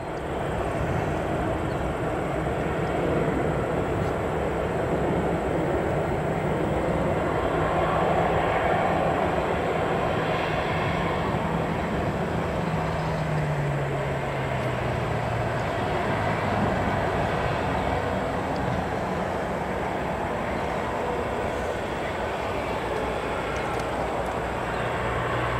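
Aer Lingus Airbus A330 airliner approaching at Chicago O'Hare Airport, a steady continuous roar of jet engines with a slowly descending tone as it draws nearer, loud and sustained throughout with broadband wind-like rumble.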